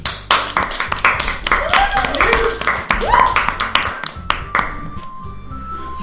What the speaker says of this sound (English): I receive an applause anyway